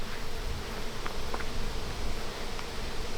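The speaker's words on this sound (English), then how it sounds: "Lots of bees." Many honeybees fly around an open hive during honey collection, their buzzing forming a dense, steady drone close by, with a few brief higher buzzes of individual bees passing near, and no voices.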